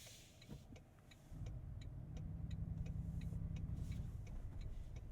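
Turn signal of a 2023 Toyota Tundra TRD Pro full-size pickup: a steady, even run of soft clicks that continues throughout, over a low, constant engine and cabin hum that grows louder after the first second.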